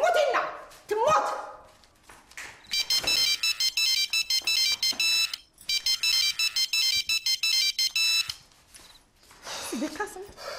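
A telephone ringtone chirps in rapid repeated electronic bursts, loud and insistent over two long stretches, with people talking before and after it.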